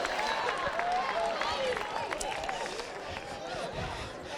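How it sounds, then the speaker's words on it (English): An audience at an MLK Day celebration and service event cheering and applauding, a steady wash of clapping with whoops and shouts, fairly even in level throughout, with voices mixed into the crowd noise. "That was the biggest cheer all morning"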